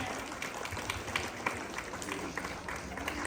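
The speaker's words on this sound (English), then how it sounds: "Please give her a big round of applause." A crowd claps at a senior secondary school investiture ceremony, the applause faint and distant in a large space, steady for about three seconds with a murmur of voices mixed in.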